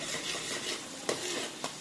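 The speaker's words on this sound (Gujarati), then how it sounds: "આ રીતે આપણે પેસ્ટનો વઘાર કરવાનો છે" A spice paste tempers and fries in a pan for potato bhungla, with a close continuous sizzle and two brief spoon-on-pan clinks as it is stirred, and no voices.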